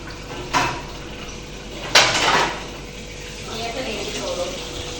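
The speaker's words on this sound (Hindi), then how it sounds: "ये एक कप धोने वाला है, ये भी मैं धो लेती कप भी" Dishes and a cup being washed at a home sink, with a few sharp clinks of crockery and a steady wash of running water in the background; a person talks briefly nearby.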